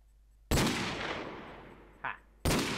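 Two sharp, loud gunshots from a gun in modded Minecraft, each with a long fading tail, and a smaller impact crack between them.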